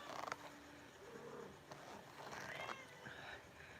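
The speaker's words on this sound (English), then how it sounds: "I have a very noisy cat that's driving me to distraction." An indoor house cat meows restlessly in a quiet room, a few faint, drawn-out rising calls along with soft rustles and a light creak.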